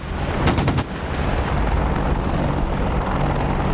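An AH-64 Apache's cannon fires a rapid burst in the DCS flight simulator, a loud quick string of shots followed by a sustained rumbling helicopter roar.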